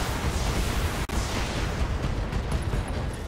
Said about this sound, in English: Ooh, ammo explosion. There it goes.